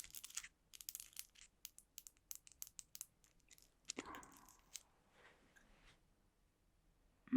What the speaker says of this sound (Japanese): ハサミで切ってくか。